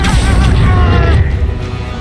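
The Expulso explosion spell bursts in the game Hogwarts Legacy with a loud, deep booming blast that rolls on for about two seconds, with a voice sounding over it.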